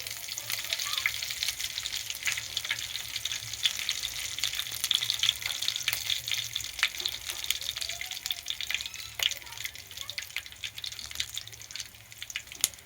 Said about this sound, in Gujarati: અને પછી આપણે મીઠો લીમડો નાખી દેવું